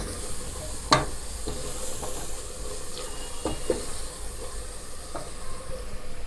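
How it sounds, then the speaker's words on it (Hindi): Black chana curry masala roasts in a pot with a continuous soft sizzle, broken by a few scraping stirs of a spoon against the pot, with no voices. "ये मैं ज़रा इसकी भुनाई कर लूँ"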